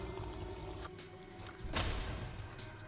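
A character drinks from a water fountain in a Ghostbusters video game, a short gush of pouring, splashing water that surges midway over a steady background hum, with no talking.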